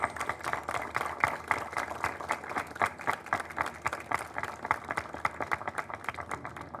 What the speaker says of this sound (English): please join me in a well-deserved round of applause for our police and firefighters here today throughout the city and our nation